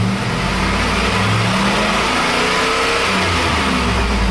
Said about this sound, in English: Accelerate to wide open throttle, release when fuel cutoff occurs.